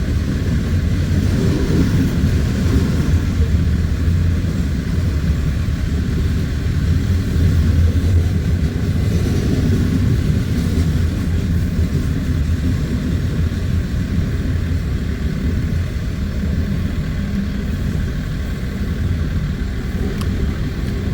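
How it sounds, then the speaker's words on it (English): A Southern Pacific locomotive leading a loaded coal drag at Missouri Valley, Iowa, a loud, continuous low diesel rumble that holds steady throughout. "Had a Southern Pacific engine leading this. Loaded coal drag."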